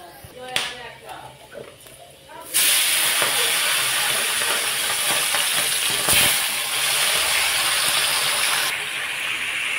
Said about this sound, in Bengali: চিকেনটা কড়ার মধ্যে দিয়ে খানিকক্ষণ নাড়াচাড়া করে নিলাম।